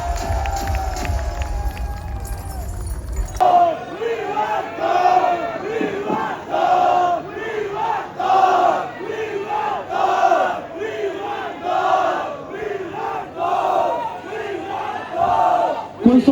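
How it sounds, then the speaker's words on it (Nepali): A concert crowd in Pokhara bursts into clapping and cheering, loud and dense for a few seconds, then gives way to scattered shouts and voices chattering over the fading noise. "एकचोटि सबैजना फेरि आफ्नो लागि ताली बजाइदियो"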